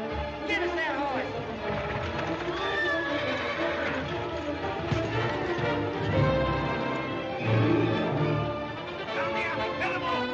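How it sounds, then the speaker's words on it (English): A horse neighs loudly several times amid hoofbeats and shouting voices in a busy, chaotic scene from the 1939 film Gone with the Wind. "There's a horse!"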